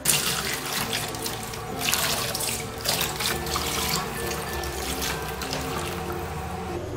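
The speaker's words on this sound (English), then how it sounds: "pour warm water into the bowl and wait for 5 minutes" Warm water pouring from a tap into a bowl of apples dusted with baking soda, a continuous splashing gush with a few louder surges over seven seconds, no speech.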